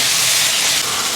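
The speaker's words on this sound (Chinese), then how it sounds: "倒入西红柿" Tomatoes hit a pot of hot red chili oil and doubanjiang for a homestyle leftover stew, setting off a loud, steady, close-up sizzling hiss with no pauses.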